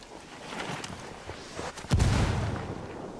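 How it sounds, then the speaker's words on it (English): Mortar explosions in the video game Ghost Recon Wildlands: faint distant pops, then one louder, deep boom near the middle that rumbles away. "Man, this mortar thing is getting real old."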